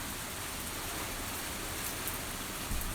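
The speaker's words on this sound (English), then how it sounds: "it's raining out here. I'm out on my screen porch." Steady rain falling outside a screen porch, a dense, even hiss of drops that holds at a constant level throughout with no voices.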